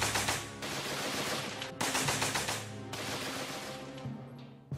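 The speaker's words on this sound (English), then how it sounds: "They would sweep the machine guns from side to side across the battlefield." Machine gun fire sweeping across a battlefield, steady rapid bursts with short breaks, moderately loud and somewhat distant, heard alone.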